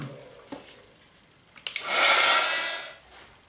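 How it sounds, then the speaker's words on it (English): A heat tool blowing over a watercolor painting to set it, heard as a few light clicks and knocks followed by a loud airy whoosh lasting about a second and a half before it cuts off. "now I'm going to heat set this piece before like adding more color to it."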